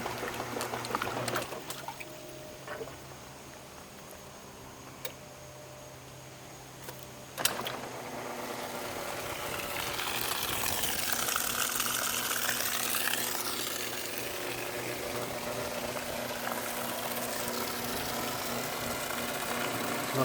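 A Kenmore washing machine runs without its outer cage, starting with scattered clicks and a low hum, then swelling into a steady churning, sloshing water wash that continues close and fairly loud.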